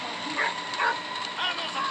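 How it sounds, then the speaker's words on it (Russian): A German shepherd in the video game Metel barks in a few short yips and woofs at moderate distance, spread over two seconds against a steady background hum. "А вот это овчарка"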